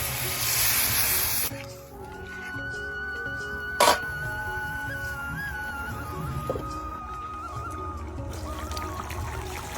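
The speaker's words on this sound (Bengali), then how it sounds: "এখন আমি জল দিয়ে দেবো।" Water is poured into a pan of spices and potatoes frying in oil for a fish curry, a steady splashing trickle that settles into a bubbling hiss, with a brief clatter midway.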